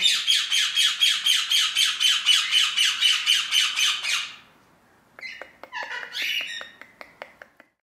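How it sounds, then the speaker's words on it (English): An African grey parrot at an animal rescue centre squawks loudly in a rapid, rhythmic series of harsh calls for about four seconds. After a short pause comes a burst of sharper chirps and clicks that fades out in scattered ticks. "A few days ago we decided to move Twiggy, an African grey parrot who's been living on her own for certainly since Christmas"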